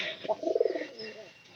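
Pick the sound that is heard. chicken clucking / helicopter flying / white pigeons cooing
white pigeons cooing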